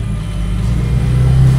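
A stock turbocharged Fiat 500 Abarth launches in a drag race, its engine loud and close, rising steadily in pitch as it accelerates.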